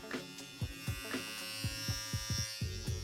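A Philips Norelco Multigroomer All-in-One Trimmer Series 3000 running close up, a steady electric buzz with a few soft clicks and handling knocks over about three seconds, no talking.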